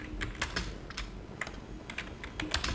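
Fingers type on a computer keyboard in a quick, uneven patter of close key clicks over a low background hum, with no talking.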